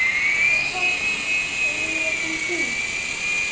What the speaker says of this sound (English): Okay, we're about to do some aerobatics on this helicopter.